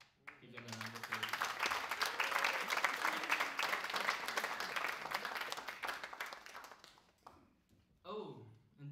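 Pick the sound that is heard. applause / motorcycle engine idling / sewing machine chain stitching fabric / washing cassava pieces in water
applause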